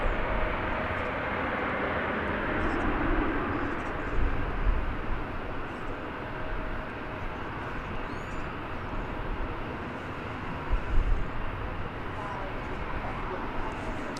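An American Airlines Boeing 737-800 at DFW Airport sounds as a broad, distant jet rumble and roar, steady with slight swells, heard from afar under outdoor ambience.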